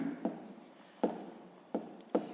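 Pen strokes writing a sixth-grade math answer on paper: four short scratchy bursts spaced about a second apart, close and fairly quiet, with no talk.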